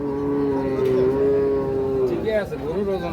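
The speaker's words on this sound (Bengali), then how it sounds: "আমরা দেখছি একটা সামনে শাহিওয়াল সিন্ধি জাতের গাভী এবং সেই সাথে শাহিওয়াল ষাঁড় বাচ্চা।" A Sahiwal Sindhi cow with her calf lets out one long, loud, close-up moo that lasts nearly the whole moment, ending in a wavering tail, with no talking over it.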